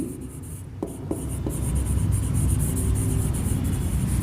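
Pen writing an accounting journal narration by hand, a steady scratchy rub running throughout at close range over a low background rumble, with a few faint clicks early on.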